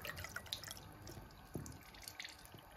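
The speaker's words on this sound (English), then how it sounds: "Rinse the inside of your egg out under the faucet" Water from a faucet rinsing out the inside of an eggshell, a quiet continuous splashing with small drips and patters, close and low in level.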